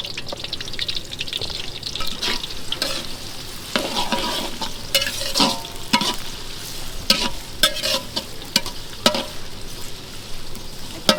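Onions, 5 kg of them, are stirred and fried in a large pot with ginger, garlic and garam masala for a beef curry, giving a steady close sizzle broken by repeated scraping strokes of a spoon.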